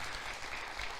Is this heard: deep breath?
no